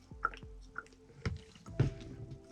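Thick blue acrylic paint being stirred with added water, giving soft wet squishes and a few dripping, plopping sounds at irregular intervals, close and quiet.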